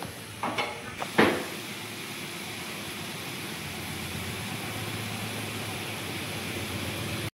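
Prawns dropped into a boiling coconut milk gravy for Bengali chingri malai curry, a couple of brief splashy plops at the start followed by a steady, even bubbling and sizzling hiss that carries on alone.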